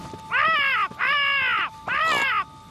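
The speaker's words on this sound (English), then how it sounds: "Oh, it's just a crow." A crow cawing three times in a row, loud, harsh, drawn-out calls with short pauses between them, heard alone with no talk.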